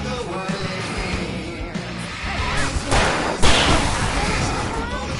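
Fireworks blast and crackle amid dense, loud game combat in Alan Wake Remastered, with heavy booms around the midpoint, under shouting voices throughout.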